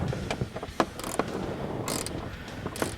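A ratchet backs out a 7mm bolt from the rear of a tweeter in a Jeep Wrangler's interior trim, with scattered metallic clicks and short bursts of ratcheting heard close up over a low hum.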